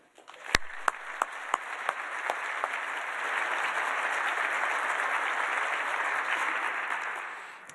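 An audience at a university senior celebration welcomes the student speaker with applause that starts with a few distinct claps, swells into steady, broad clapping from a sizable crowd, then tapers off at the end.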